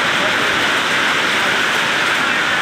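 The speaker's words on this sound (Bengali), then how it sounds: "এবং তার সাথে বৃষ্টি হচ্ছে" Heavy late-afternoon rain pours down in a dense, unbroken roar with no pauses, loud and close throughout.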